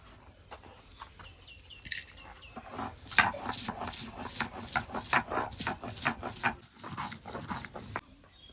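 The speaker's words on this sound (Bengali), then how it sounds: "আমি এখন পেঁয়াজগুলো বেটে নেব" Onions being ground into a paste on a stone, with a steady run of rough rubbing and rasping strokes that build to a dense rhythmic scraping in the middle, nearby and fairly quiet.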